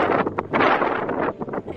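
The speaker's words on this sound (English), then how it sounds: "It is so windy." Strong spring wind buffets a microphone outdoors, making loud, gusty rumbling and roaring that surges and dips in uneven bursts throughout.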